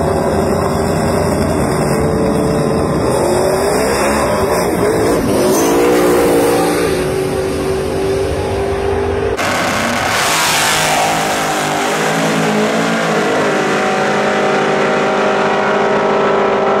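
Drag race cars at an outlaw list race and test-and-tune night roar off the line, loud rising engine howls with an abrupt cut and a second blast, heard close and continuous.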